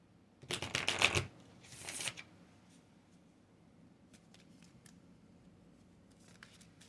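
Angel oracle cards shuffled close up in two quick riffling bursts, followed by faint handling and light rustles in a quiet room.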